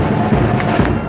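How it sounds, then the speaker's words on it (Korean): Crowd applause at an outdoor political rally in Seoul, a dense steady wash of clapping lasting about a second with a few louder thumps, no talk. "큰 박수 부탁드리겠습니다."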